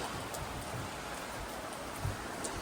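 Steady rain falls outdoors at a building site where a summer shower stall is being built, a dense, even hiss with a few louder drops and rustles, no voices present.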